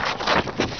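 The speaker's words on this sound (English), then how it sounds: "god damn it's windy" Wind gusts buffet the microphone outdoors in uneven rumbling surges through the whole short moment.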